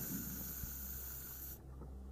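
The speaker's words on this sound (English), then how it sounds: "Spray over it." A spray can sprays in a video game, a steady airy hiss that runs for about a second and a half and then cuts off abruptly, leaving a low background hum.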